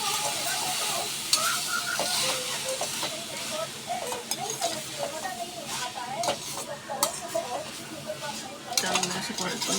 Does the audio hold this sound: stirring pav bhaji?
yes